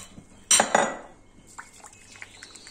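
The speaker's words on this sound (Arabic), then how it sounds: "راح نغسل الفريك تاعي" Freekeh grains are washed in water in a pot: a sharp clatter of grain and metal comes first, then lighter splashes and drips of water, close up, with no speech.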